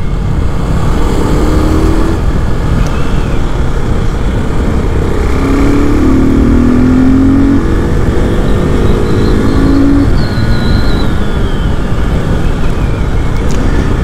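A KTM RC390 motorcycle rides at speed on an off-road outing, a loud sustained engine roar mixed with heavy wind buffeting, with brief pitch rises as the revs climb, close and continuous.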